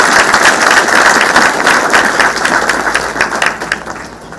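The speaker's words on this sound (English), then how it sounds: "Can we give them a round of applause?" Loud crowd applause at a formal admission ceremony for advocates, a thick wash of clapping that stays strong and then tapers off near the end, with no speech over it.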